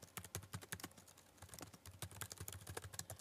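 Quiet, quick keystrokes on a computer keyboard tap out in a brisk, uneven rhythm of soft clicks, close and alone without any voices.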